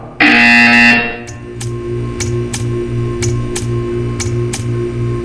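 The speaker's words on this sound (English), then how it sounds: "You will hear a buzzer" A loud electronic buzzer from the game Portal 2 blares steadily for about a second, then gives way to a regular ticking pulse over a low hum.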